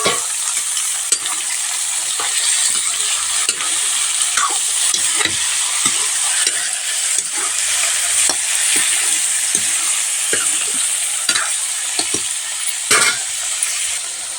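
New potatoes and radish fry with onions in a pan, giving a steady hiss and sizzle broken by repeated scraping and clinking stirs of a spoon against the pan, close and continuous with no talking.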